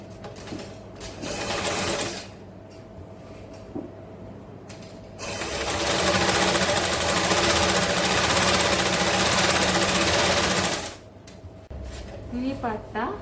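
A sewing machine stitches a folded hem on a silk pavada, running in a short burst and then a long steady whirring run, with someone speaking over the machine.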